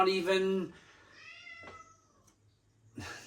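A cat gives a loud, clear meow up close, then a softer drawn-out second meow, with a short vocal sound near the end.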